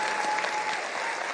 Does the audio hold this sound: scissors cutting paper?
no